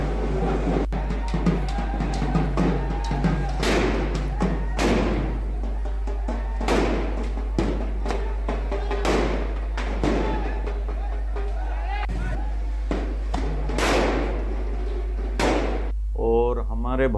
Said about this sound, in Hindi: गंगा जमुना बम पटाखों के शोर से मोहल्ला गूंज उठा।